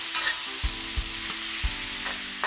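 Beef and broccoli stir-frying fast in a wok, a steady close sizzle broken by several sharp clanks of the spatula against the metal, with no talking.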